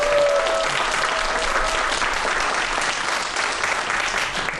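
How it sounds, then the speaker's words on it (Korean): A crowd at a magic charity event applauds warmly to welcome a guest onstage, a dense, steady wash of clapping that holds strong for several seconds and fades slightly at the end. "큰 박수로 환영해 주세요"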